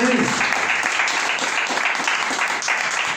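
A church congregation at Sunday school clapping, dense continuous applause filling the room, with a voice briefly audible at the start.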